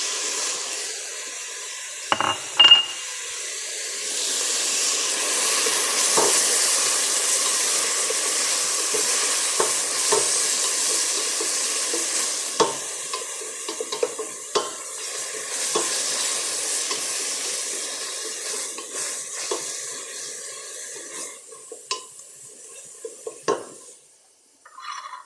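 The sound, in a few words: garlic and tomato frying in a pot for meat soup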